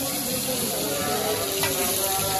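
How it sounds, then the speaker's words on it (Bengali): Hilsa fish fries in mustard oil at a riverside spot, a steady close hiss and crackle of sizzling oil that holds level throughout with some background clatter. "মাছ ভাজার এই সাউন্ডটা শুনতে কার কার ভালো লাগে"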